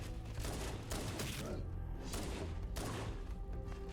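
Handgun fire in Halo: Combat Evolved, a few close sharp shots breaking through a dense wash of game noise, faint overall and with no clear gaps between the rounds.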